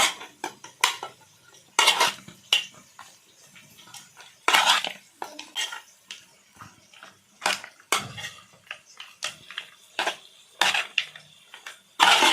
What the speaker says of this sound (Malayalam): പേസ്റ്റ് മുഴുവനായിട്ട് ഇതിലിടുക നന്നായി മിക്സ് ചെയ്യാം